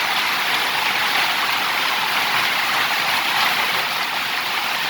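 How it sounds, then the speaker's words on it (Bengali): Rushing water pours down steadily off a tin roof in heavy rain, a dense, unbroken roar that stays even for the whole stretch. "জলের স্রোত কাকে বলে, তিন থেকে ঝাঁকতে ঝাঁকতে পড়ছে।"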